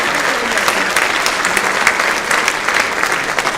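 A high school freshman forum audience claps for a police lieutenant, loud sustained applause from a full room, a thick even wash of hand claps with no talking.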